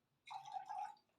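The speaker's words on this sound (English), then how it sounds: "So pour water onto your tin, about 200 ml of water." Water poured into a large glass beaker, about 200 ml, for a boiling-point experiment: a single close, steady pour lasting under a second, starting abruptly and tapering off.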